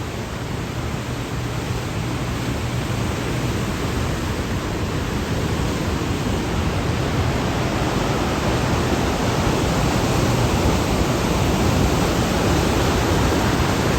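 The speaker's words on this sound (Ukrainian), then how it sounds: "Чуєте, так шумить вода." Loud, steady rush of water in an American-style park, a broad continuous roar like a weir or fast stream, unbroken throughout and close by.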